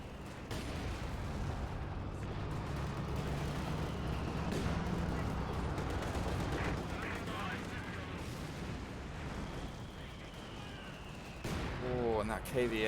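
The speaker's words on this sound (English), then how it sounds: "Let's see now the Stuka barraging. There's the barrage hitting." A Stuka artillery barrage in Company of Heroes 2 lands as a dense, continuous rumble of explosions and bursting impacts, with faint talk underneath.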